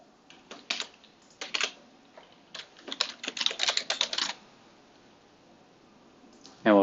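A username is typed on a computer keyboard, a run of close, crisp key clicks in uneven bursts, ending with a short voice sound.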